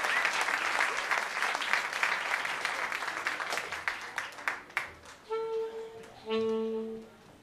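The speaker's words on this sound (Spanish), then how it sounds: "Un fuerte aplauso para Cristian y Gisela." A crowd at a Christian music festival in Coquimbo, Chile applauds loudly, then the clapping thins out and fades as sustained musical tones begin to play.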